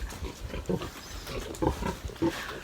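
A sow on a farm grunts in short low bursts, several separate grunts spaced irregularly, close and clear over a quiet barn background.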